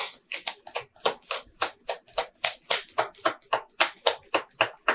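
Tarot cards are shuffled by hand in a rapid, even series of crisp riffling snaps, close and clear with no talk.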